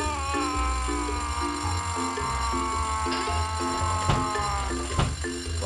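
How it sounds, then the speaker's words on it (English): Fire alarm going off in a story video game, a steady repeating electronic ringing pattern with a looping background music bed, continuous and fairly loud, no talk. "has caused the fire alarm to go off"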